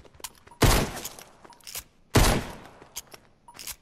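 Two loud blasts of Fortnite gunfire, each a sharp shot with a brief ringing tail, spaced about a second and a half apart, with faint clicks and game noise in between.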